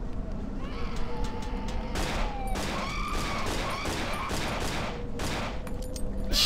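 Guns fire in rapid bursts in the horror video game Cry of Fear, sharp cracks repeating over a rumbling, busy in-game background with some tonal sounds.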